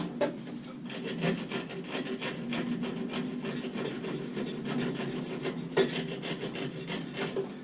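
A rasp files steadily across wood, a continuous close scraping rub with rhythmic strokes that carries on for several seconds with no talk.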